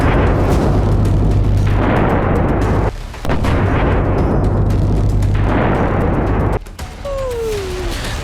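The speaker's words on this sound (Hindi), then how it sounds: "तभी ताबड़तोड़ गोलियां चलने लगी और चीखते चिल्लाते लोग जान बचाने के लिए" Continuous loud bursts of gunfire during the attack at Pahalgam, dense and sustained with two brief breaks, ending in a rising whistling tone.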